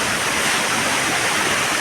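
A monsoon waterfall at Araku roars in a steady, loud, close wash of falling water that fills the whole stretch without pause.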